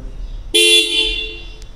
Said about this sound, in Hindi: चलिए एक बार देख लेते हैं कि इसमें हॉर्न कितनी ज़ोर है